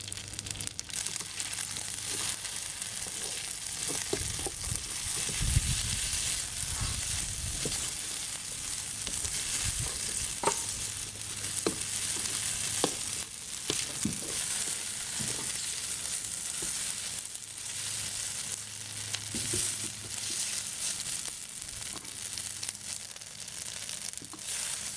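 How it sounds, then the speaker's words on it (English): Shanghai noodles sizzle and fry as they brown in a hot pan, a steady close hiss with occasional stirring clicks and crackles, no voices. "I want to let them brown the noodle a little bit"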